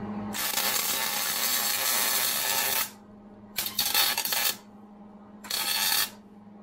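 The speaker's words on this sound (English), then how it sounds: "I put a nice bead of weld around it" Arc welding a bead around a tacked pipe joint, with three bursts of steady broadband crackling and hiss, one long and two shorter, separated by quiet pauses, close up.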